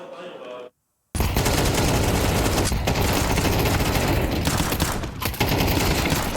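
Rapid bursts of Desert Eagle pistol fire from Counter-Strike 2 during a pro esports match, loud and dense gunshots after a brief silence, with game sounds and crowd noise layered underneath.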